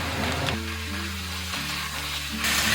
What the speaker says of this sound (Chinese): 接着我们就下入这个羊肉哈，给它快速翻炒。